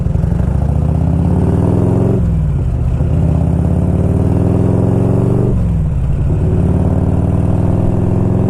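A 1992 Harley-Davidson Electra Glide Sport motorcycle engine runs steadily and loud up close, a deep continuous rumble with two brief dips in pitch as the rider shifts gears while cruising on the road.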